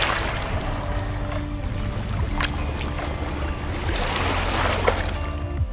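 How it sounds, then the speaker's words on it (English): Waves lapping against a rocky shoreline, recorded up close with a shotgun microphone: a steady washing, splashing ambience with soft trickling detail, continuous and moderately loud with no voices. "we managed to get some great takes of the waves lapping against the rocky shore with our shotgun microphones"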